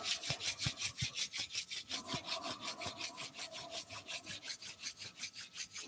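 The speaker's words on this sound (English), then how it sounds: "Rubbing the palms together" Palms rubbing briskly together in a steady back-and-forth rhythm, about four strokes per second, a close dry swishing friction that continues alone through the whole stretch.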